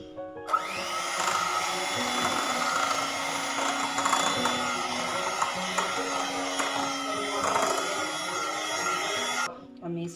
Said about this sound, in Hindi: इसको पहले मैं मिक्स कर लूँगी ऐसे बीटर के साथ